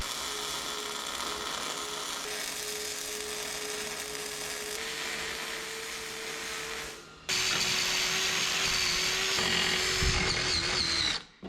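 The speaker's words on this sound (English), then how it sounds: "I'm gonna grind down some of those tacks" An angle grinder grinds down weld tacks on custom control arms for a 1963 International Loadstar truck, a loud continuous whine. It drops out briefly, then returns louder and harsher before cutting off at the end.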